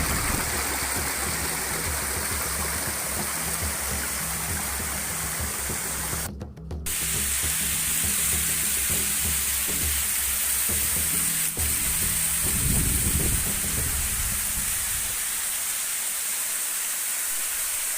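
Waghdara waterfall near Ambalegaon, Pune, in Maharashtra, sends up a loud, steady rushing hiss of falling water and spray that continues unbroken apart from a brief dip partway through.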